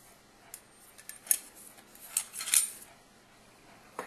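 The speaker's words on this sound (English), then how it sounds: "Put my Canteen stove, the cup on top of the stove, and then put the boil lid in place." A metal canteen stove and cup set are placed into position, giving several light, bright metallic clinks and taps, with a sharper clatter in the middle, close up and fairly quiet with no talking.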